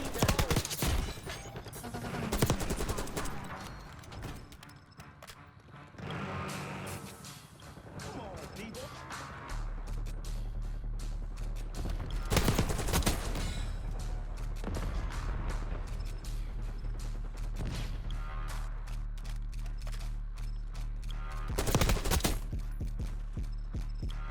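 Krig C rifle gunfire in the first-person shooter Black Ops 6 comes as repeated rapid bursts and scattered impact crashes, mixed with game effects and a player's talk over roughly twenty seconds.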